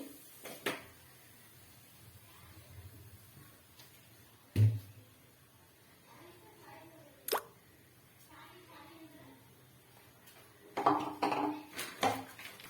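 A metal frying pan is handled on a stove while making vegetable egg fried rice, giving a few sharp, spaced metallic clanks and knocks against a quiet kitchen background.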